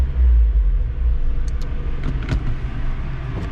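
Engine of a Honda Civic Si on a dyno, running super lean, stalling: a heavy low rumble that fades out early, then light knocks and clicks over a quieter hum, with no talking.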